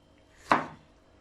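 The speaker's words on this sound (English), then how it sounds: "Try and chop it into the smaller cubes." A single sharp knife chop on a cutting board, close and crisp with a brief decay, as vegetables are cut into small cubes for pilipili sauce.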